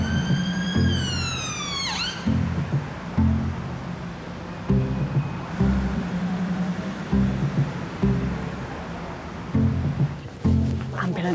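An ambulance siren wails loud and close, its sweeping tone cutting off after a couple of seconds. Rhythmic low engine or road rumble carries on beneath, and a short burst of siren returns at the end.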